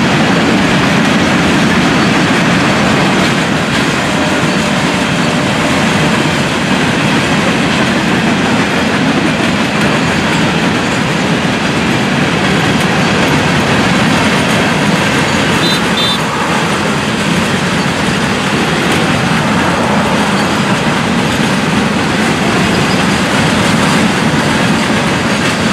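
An FEC freight train, the 109, rolls past close by, a loud continuous rumble with clattering wheels on the rails and no break for the whole stretch.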